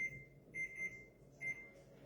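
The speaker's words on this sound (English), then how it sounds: "So we're going to use our timer again." Kitchen timer beeping in a home kitchen while a chicken and broccoli skillet simmers: short bursts of high, piercing electronic beeps in a repeating pattern, clear and close over a low background hum.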